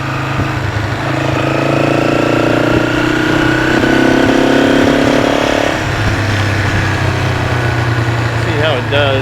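A 1970s Honda CL450 motorcycle engine idles steadily nearby with its choke halfway, a loud continuous rumble that shifts pitch slightly midway, while people talk over it.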